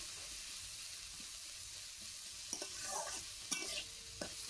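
A spoon stirs a curry of taro and tangra fish with salt in a pan over a soft, steady sizzle, with quiet scrapes and scattered knocks that grow busier toward the end.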